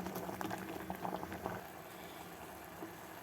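Foxtail millet boils in water in a mud pot, a quiet steady bubbling and gentle liquid patter that thins out partway through, with no speech.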